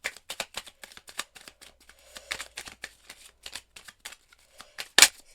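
Tarot cards shuffled and drawn by hand, quiet close papery riffles and flicks in quick irregular bursts, with one sharper snap of a card near the end.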